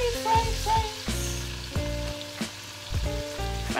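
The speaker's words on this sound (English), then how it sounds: "fry the onions until it's a little cooked." Onions fry in a pan for tomato stew, giving a constant sizzling hiss beneath a stepped, tuneful backing of music.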